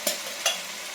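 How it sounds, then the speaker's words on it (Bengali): Green chili and boiled potatoes are stirred in a hot frying pan, with two quick spatula scrapes rising over a steady, close sizzle. "এগুলো দিয়ে সব আমি এটা নেড়ে দেবো।"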